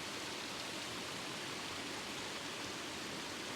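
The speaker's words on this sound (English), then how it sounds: "The water is trickling down into the pool at the bottom, separated by two waterfalls." Spring water trickling over moss-clad rock into a pool through two small waterfalls in a wooded valley, a soft, steady, even hiss of flowing water heard alone and from a little distance.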